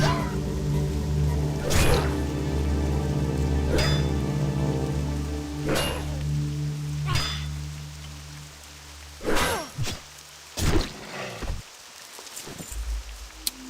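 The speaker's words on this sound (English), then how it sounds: "it has rained the entire time we've been here. It's been raining." Steady rain falls across the Wetlands zone of World of Warcraft Classic, a continuous wash of drops spread over the whole stretch, with a few sharp, brief knocks and steps breaking through near the end.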